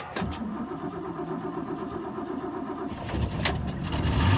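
A car engine cranks over in freezing weather, a brief starter whir giving way to a steady low churning that swells into a catch and a rising idle, close and loud with no talk.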